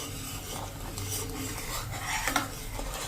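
A spoon scrapes and rubs through thickened milk for rabdi in a pan, a soft continuous stirring rasp with a faint clink near the end, quiet and close with no talk.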